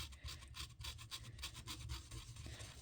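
A paintbrush drags across a stone while gray background paint is laid on, making a steady dry rasping scrape that repeats in quick close strokes through the whole moment.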